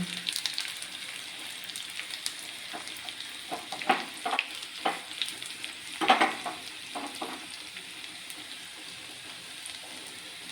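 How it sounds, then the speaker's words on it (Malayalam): Mustard seeds and curry leaves sizzle and crackle in hot oil as the tempering for a lentil and spinach curry is prepared. A steady frying hiss runs throughout, with bursts of popping and spattering near the middle. "നമുക്ക് ഇച്ചിരി താളിച്ചൊഴിക്കാം താളിച്ചൊഴിക്കാം"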